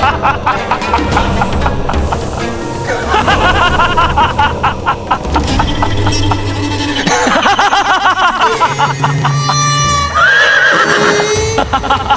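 A horse neighs and whinnies in a Mughal-era historical drama about Maharana Pratap, loud and prominent over dense background music with a few clopping sounds.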